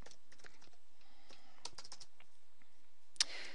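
A computer keyboard is typed on in short, uneven bursts of quiet key clicks, with brief pauses between them and one sharper, louder keystroke near the end.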